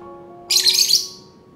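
Small birds chirp outdoors in a short, bright burst of rapid tweets that starts suddenly and fades quickly over a quiet background hum.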